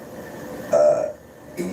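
A single short, loud human burp sounds up close, a brief guttural rasp that fades out quickly, followed by a slight throaty noise near the end.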